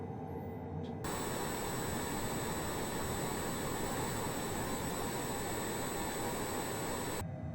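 An MG HJet's jet engine in the MSFS video game, running at max continuous thrust during a climb, a loud, steady roar that starts abruptly and cuts off sharply near the end.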